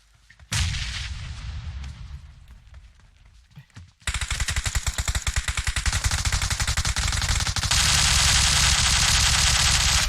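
Rapid automatic gunfire in PUBG Mobile rattles nonstop in dense bursts, loud and close, after a few seconds of rumbling explosions.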